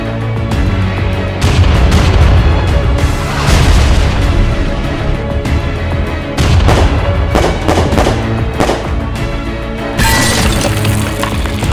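Sustained loud barrage of automatic gunfire and booming blasts from armed microbots attacking a city in an animated sci-fi short, continuous and dense across the clip with bursts of crashing impacts.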